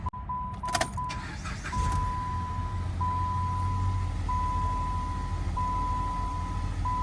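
A 2011 Dodge Avenger with a faulty temperature sensor idles with a steady low engine hum, and a repeating electronic chime beeps over it at regular intervals after a few knocks near the start.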